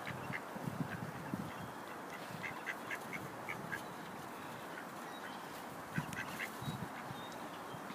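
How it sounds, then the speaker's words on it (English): Ducks quacking outdoors near a driveway while being fed bread, a busy flock giving repeated short, fairly loud quacks in irregular bursts over a steady breezy background, with no talk. "And there's the ducks."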